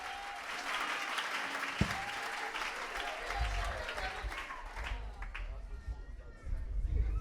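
A church congregation applauds and cheers loudly during a French-language evangelist's sermon, with a dense, continuous clatter of clapping mixed with shouts and voices.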